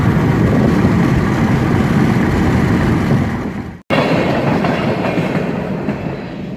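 A train rumbles past loudly and steadily on tracks along the Mississippi Gulf Coast waterfront, a dense roar with rhythmic rattling of wheels on rails, briefly cut off midway then continuing.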